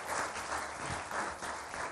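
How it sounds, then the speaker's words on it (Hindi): Steady audience applause on an Iftar television show, a dense wash of many hands clapping in a studio that holds evenly for two seconds with no voices over it. "इसके लिए बहुत सारी तालियां होनी चाहिए।"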